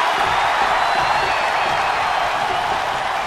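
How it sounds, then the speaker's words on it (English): An arena crowd in the wrestling video game WWE 2K19, at an Elimination Chamber event, keeps up a loud, steady roar of cheering, a dense wash of voices throughout with no distinct breaks. "Listen to this crowd count the next one in."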